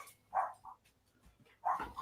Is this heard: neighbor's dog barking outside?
yes